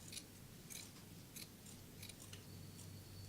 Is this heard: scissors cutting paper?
yes